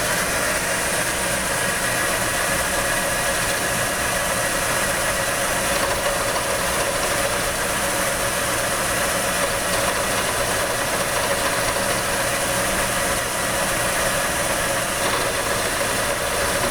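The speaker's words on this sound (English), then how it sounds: "I'm cranking the table by hand." A manual vertical milling machine hums steadily as its table is cranked by hand, a continuous mechanical whir with faint ratcheting texture, alone with no talk.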